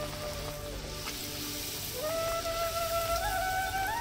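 Chicken kochuri, a meat-filled puffed bread, deep-frying one at a time in hot oil, giving a low, steady sizzle with a faint tonal whine running over it and no voices.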